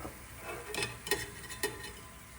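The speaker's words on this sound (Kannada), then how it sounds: "ಈ ರೀತಿ ಎರಡು ಕಡೆ ಕ್ರಿಸ್ಪ್ ಆಗೋವರೆಗೂ ಇದನ್ನು ಫ್ರೈ ಮಾಡ್ಕೋಬೇಕು" Jalebi deep-frying in hot oil in a home kitchen until crisp on both sides, giving a quiet, steady sizzle with a few soft clicks and pops.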